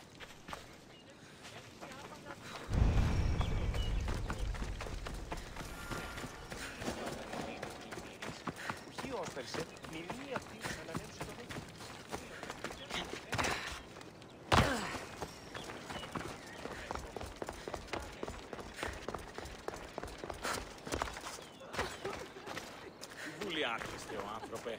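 Quick running footsteps patter through an ancient Greek theater in Assassin's Creed Odyssey, a fast steady rhythm of steps mixed with ambient game sounds and a voice speaking over much of it.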